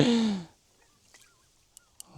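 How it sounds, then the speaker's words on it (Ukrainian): A loud, close honk from a goose flying overhead at night by the Dniester River opens, then fades away, leaving near silence with a few faint distant calls and soft clicks. "гуси літають"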